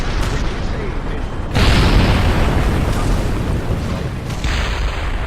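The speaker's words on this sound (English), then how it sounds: "I couldn't hear you over all explosions." In a Kerbal Space Program video game, a sudden loud rocket blast at ignition erupts into a sustained roaring rumble that continues steadily, with faint talk in the background.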